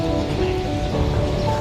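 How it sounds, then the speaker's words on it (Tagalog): Light drizzle falls during a motorcycle group ride, heard as a continuous, dense, hissing wash of noise that holds steady and then cuts off abruptly. "Medyo umaambon-ambon na rin."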